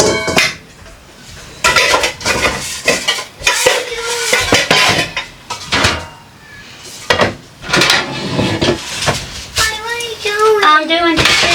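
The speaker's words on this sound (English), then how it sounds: "I'm doing dishes and cleaning out the refrigerator." Dishes and cutlery being washed during a kitchen and refrigerator clean-up, with repeated close clattering of metal utensils and dishes in irregular bursts. Voices speak now and then, including a voice near the end.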